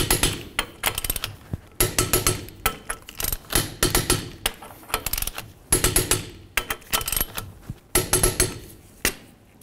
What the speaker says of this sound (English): We'll torque these to 100 foot-pounds in a crisscross manner.